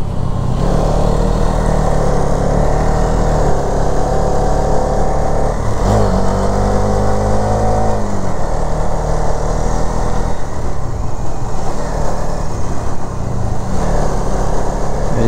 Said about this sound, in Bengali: সবাই একসাথে যাচ্ছি আমাদের বাইক নিয়ে